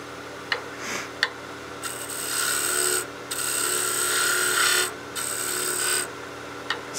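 Wood lathe spinning a birdhouse ornament as a tool cuts a small chamfer and burnish line, giving bursts of steady whirring scrape between brief pauses, with a few sharp taps, close and moderate.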